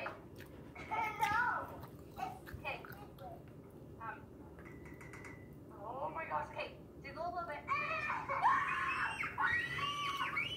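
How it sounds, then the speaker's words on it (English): Girls scream repeatedly in high-pitched, overlapping bursts, loud and close, with brief chatter and talk between the shrieks in a household setting. "Now that's funny, just seeing girls scream."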